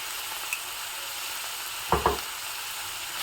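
Onions and tomatoes frying in a pan make a constant close sizzle, broken by a couple of quick stirring knocks near the middle.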